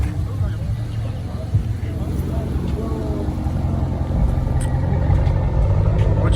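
A 2019 Dodge Charger R/T with its mid muffler removed idles and rumbles loudly and close, a deep steady exhaust growl under people talking.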